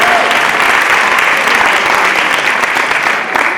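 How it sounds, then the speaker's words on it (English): At a women's health forum, an audience breaks into dense, continuous applause, a loud wash of many clapping hands that holds steady throughout. "Applause for them."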